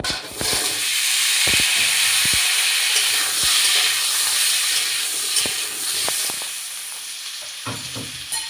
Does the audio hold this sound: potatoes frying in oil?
yes